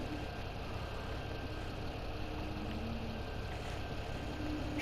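A tractor engine idles inside the cab in Farming Simulator 17, giving a steady, low, even rumble with a faint high whine, continuous and unchanging throughout, with no speech.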